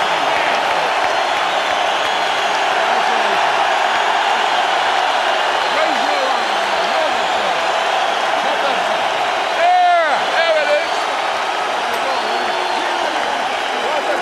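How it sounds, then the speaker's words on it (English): A boxing arena crowd at a heavyweight title fight responds for Vitali Klitschko with a continuous loud roar of cheering and applause, and whistles and whoops rise briefly near the middle. "And listen to the crowd response for Vitali."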